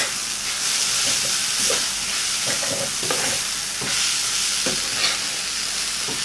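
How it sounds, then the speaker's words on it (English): Indomie noodles with mushrooms and dark soy sauce sizzle steadily in a pan while being stirred, with repeated soft scraping strokes over a constant frying hiss, close up. "So I'm just going to mix everything up all together."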